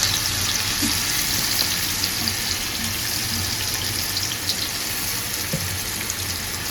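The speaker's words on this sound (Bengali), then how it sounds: "রুই মাছটা কিন্তু কড়া করে ভাজতে হবে, কড়া করে ভাজবো রুই মাছটা একদম।" Rohu fish fries in a pan with a continuous hissing sizzle that sounds almost like running water, steady and close, with a few faint clinks and no voices.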